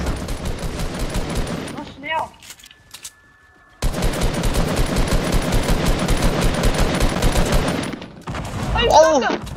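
Sustained bursts of automatic gunfire in a video game, loud and close, broken by a short silent gap before the firing resumes, with brief voices in between.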